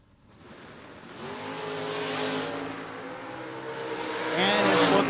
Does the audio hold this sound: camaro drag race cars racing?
yes